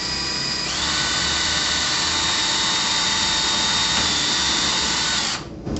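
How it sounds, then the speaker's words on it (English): A power drill with a bit pre-drills an angled hole for a trim head screw, a loud steady high whine that holds for about five seconds before winding down abruptly, with no talk. "First you take your drill with your drill bit"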